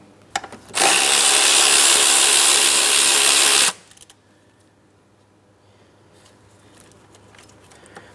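Power tool or ratchet whirring steadily for about three seconds while removing a 10mm bolt from a wiring harness bracket on a 2003-2007 Cadillac CTS 3.6L V6, loud and close, followed by quiet handling noises.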